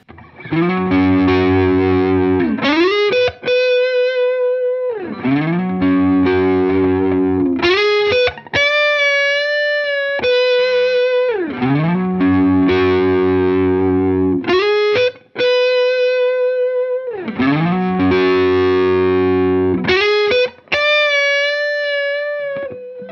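Distorted electric guitar plays a simple major blues phrase over a barre chord low on the neck: loud sustained overdriven chords alternate with brief bending single-note licks, repeating in a steady cycle with no voices.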